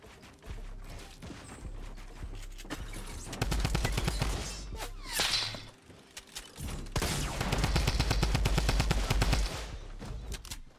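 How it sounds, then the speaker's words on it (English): Rapid gunfire from a Fortnite match on PC, bursts of loud automatic shots with rattling mechanical clatter, a short pause, then another long sustained volley. "Heard a shot."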